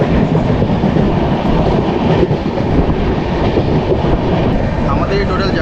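The Shalimar–Puri Dhauli Superfast Express runs on its rails with a loud, steady rumble and rattle heard from on board, continuous and close throughout.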